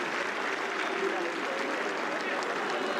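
A stadium crowd applauds a player at a UEFA Youth League final between Trabzonspor U19 and Barcelona U19, a steady wash of distant clapping running throughout beneath a commentator's voice.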